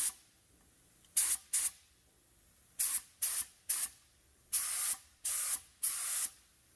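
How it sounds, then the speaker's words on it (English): Short bursts of a KBS Top Coater paint spray gun test-spraying, hissing on and off, about nine sprays in uneven pairs and threes, loud and close with quiet gaps between. "we're going to do a test spray"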